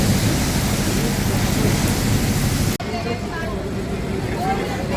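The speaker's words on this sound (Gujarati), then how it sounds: "અત્યારે વરસાદ ખૂબ આવી રહ્યો છે, તમે જોઈ રહ્યા છો." Heavy rain pours down steadily throughout, a dense hiss with a brief break partway through, close and loud.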